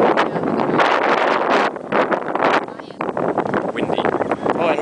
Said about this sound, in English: It's very, very windy up here.